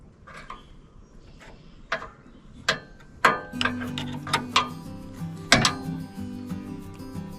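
A 17mm wrench works bolts loose on a mini excavator's foot drive control, giving a close series of sharp metallic clicks and clanks at an uneven pace, with no talking.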